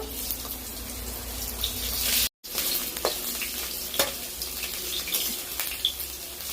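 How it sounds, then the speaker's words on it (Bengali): Bitter gourd frying in a pan for sukto, a steady close sizzle with occasional stirring scrapes, briefly cut by a silent gap, no talking. "উচ্ছেগুলো ভাজা হয়ে গেছে আমি এগুলোকে তুলে নেব"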